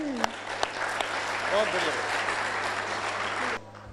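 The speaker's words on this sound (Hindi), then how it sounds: "जोरदार ताली उदयन के लिए, जोरदार।" A small group gives enthusiastic applause for a child named Udayan, lively clapping lasting about two seconds while an adult voice talks over it.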